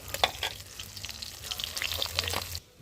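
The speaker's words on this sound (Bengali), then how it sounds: "তো প্রায় ভাজা হয়ে গেছে মাছটা" Sitting fish frying in hot oil in a pan, giving a steady close crackle and sizzle with scattered sharp pops for a few seconds before it cuts off abruptly.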